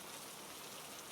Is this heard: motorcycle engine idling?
no